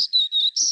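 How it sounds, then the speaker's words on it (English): A black-throated green warbler sings a short buzzy song, three high wheezy notes in a quick series, clear and fairly close with no other sound around it. "it's Z, Z, zoo, zoo, Z. One of the first warbler songs that I learned"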